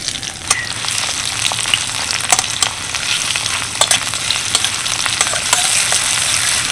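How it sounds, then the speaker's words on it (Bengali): Chopped onion sizzles steadily in hot mustard oil in a wok, a loud constant crackle broken by sharp pops and occasional scraping stirs, with no talking. "এবার কড়াইতে যতক্ষণ পেঁয়াজটা ভাজা হবে"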